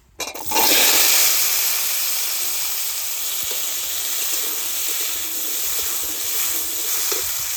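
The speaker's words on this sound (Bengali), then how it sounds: "শাক রান্না করার জন্য আলুগুলো ভেজে নিই" Potatoes sizzle steadily in hot oil in a pan for spinach cooking, a loud continuous frying hiss that starts abruptly and holds even with faint stirring underneath.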